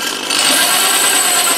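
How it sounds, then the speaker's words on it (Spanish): Power drill boring a hole at a marked screw position, driven slowly without pressure, giving a loud steady whirring grind that starts up partway and runs on close by. "la vamos a taladrar en la posición del tornillo"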